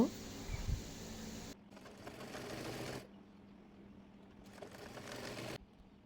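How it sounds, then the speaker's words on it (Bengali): A sewing machine stitches the folded edges of petticoat fabric in two separate bursts of steady, fast whirring, close and fairly quiet, with pauses between runs. "কাপড়ের দুই পাশের মাথা মুড়িয়ে সেলাই করে নেব"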